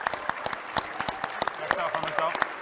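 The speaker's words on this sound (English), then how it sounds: "you clap for yourself" Scattered clapping from a small crowd at a game developer presentation, brief and uneven, with voices murmuring underneath.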